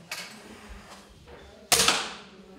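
Air gun shots at a teachers' shooting competition in a school, two sharp pops, a lighter one early and a louder one later with a brief ringing tail, set against quiet room tone.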